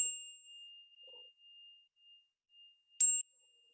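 A meditation bell's clear, high tone hangs and fades over near silence, then a fresh strike rings out brightly near the end.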